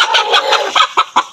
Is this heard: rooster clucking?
yes